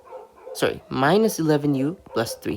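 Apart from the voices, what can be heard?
dogs barking outside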